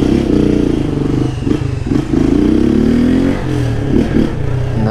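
A delivery motorcycle rolling slowly along a street, its engine droning loud and steady close by with small rises in pitch and faint rattles, with no talking over it.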